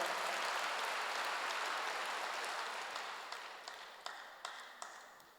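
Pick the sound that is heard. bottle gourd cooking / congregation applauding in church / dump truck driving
congregation applauding in church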